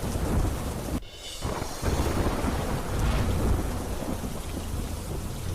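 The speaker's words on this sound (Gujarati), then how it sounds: "મોડી રાત્રે ગાજવીજ સાથે વરસાદ વરસતા રસ્તા પાણી થયા" Heavy late-night rain pours steadily with rumbling thunder rolling through, a brief dip in the roar before the downpour and thunder swell again.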